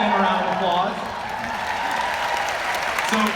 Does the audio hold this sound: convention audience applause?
yes